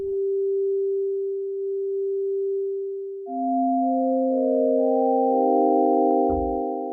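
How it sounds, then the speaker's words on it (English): A steady sine tone from an Opsix synthesizer holds alone, then shifts into a fuller, layered chord of pure tones that sustains to the end. "So this is only sine wave, but it has some interest there."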